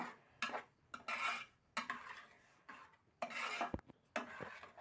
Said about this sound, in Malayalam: നന്നായിട്ടൊന്ന് ഇളക്കി പാകപ്പെടുത്തുക